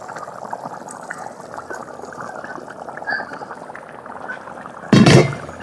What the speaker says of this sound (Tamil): இன்னும் ஒரு 5 நிமிஷம் கொதிக்கிட்டோம்.